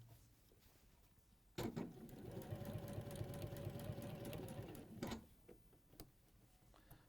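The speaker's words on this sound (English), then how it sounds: "And sew over that same line of stitching." Sewing machine stitching back over an existing line of stitching on fabric: one close, steady mechanical run of about three and a half seconds that starts and stops abruptly against a quiet room.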